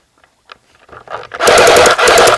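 Airsoft guns fire during an outdoor airsoft war game, starting with a few scattered pops and building into loud, sustained rapid automatic bursts close by.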